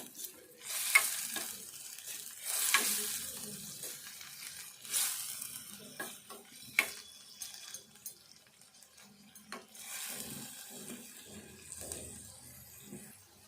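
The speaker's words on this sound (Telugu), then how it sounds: "ఈ ఉల్లిగడ్డ పేస్ట్ అంతా మంచిగా వేగాలి." Onion paste with turmeric frying in a pan for a masala egg curry, sizzling softly under repeated spoon scrapes and stirs, with brief metallic clinks between strokes.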